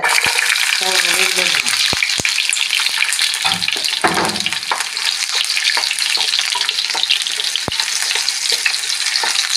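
Shallots fry in coconut oil in a pan, giving a steady, loud sizzle with occasional stirring clatter and brief scraping throughout, no voices.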